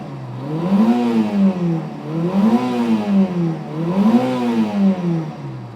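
A Honda S600 coupe engine, a small 1960s high-revving unit, revs up and falls back in three rising-and-falling sweeps, loud and close, with a whirring mechanical tone and no talking.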